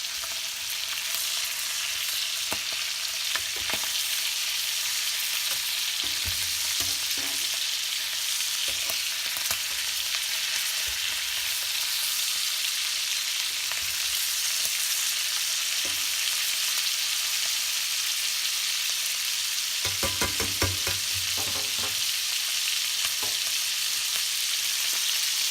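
Meat sears in a hot pan after oven cooking in a reverse sear, giving a loud, continuous sizzle with occasional stirring or shifting sounds and no voices.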